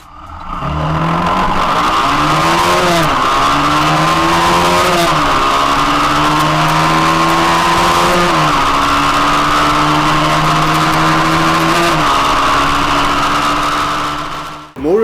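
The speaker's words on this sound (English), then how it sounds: "we pulled off a 0 to 100 test in high revs" A Lifan KPR 150 motorcycle engine screams at high revs during a 0 to 100 acceleration run, climbing in pitch through several gear shifts, loud and close, then cutting off sharply at the end.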